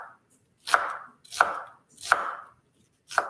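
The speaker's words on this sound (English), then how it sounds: "So the first thing I'm going to do is cut my onion" A knife chops through an onion on a cutting board in four evenly spaced, crisp strokes, each a close, sharp thud with a short crunchy tail and near-silence in between.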